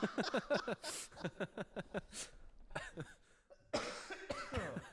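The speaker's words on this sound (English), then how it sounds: "Now I can't stop coughing." A run of rapid, harsh coughs, close and loud, breaking into short bursts with brief pauses, then another fit of coughing near the end.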